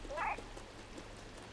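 A cat meows once in the video game Stray, a short, clear call near the start, followed by a quiet background hum.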